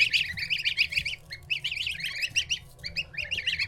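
Newly hatched goslings peep in rapid, high, insistent bursts, several chicks calling close by with short pauses between flurries.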